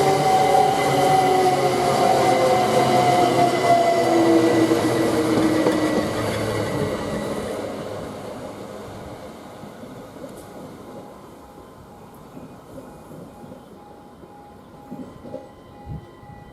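A red Class 387 express train runs through a station at Waterbeach, its loud rumbling roar close at first and then fading steadily into the distance, with faint wheel noise at the end.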